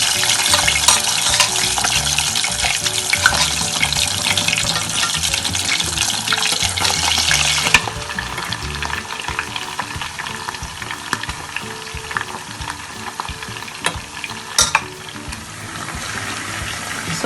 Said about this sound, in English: So I'm going to start frying my goat meat.